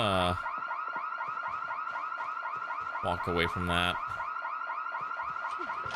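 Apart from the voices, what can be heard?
car alarm going off in video game Project Zomboid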